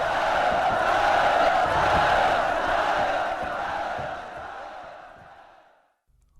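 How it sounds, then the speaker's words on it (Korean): A large crowd of soldiers aboard rafts on a river roars a sustained, loud battle cry that swells and then slowly fades away. "뗏목에 올라탄 군사들이 함성을 질렀다."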